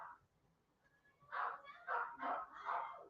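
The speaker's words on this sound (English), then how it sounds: "I don't know if y'all can hear my dogs barking in the background." Several sharp, high-pitched dog barks come in a quick burst of about four yaps after a quiet start, somewhat distant.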